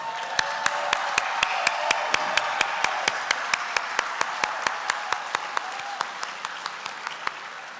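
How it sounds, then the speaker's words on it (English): A ceremony audience applauding the NEA Foundation board of directors, sustained clapping from a crowd with sharp individual claps standing out near the mic, slowly easing off. "let's give them a round of applause"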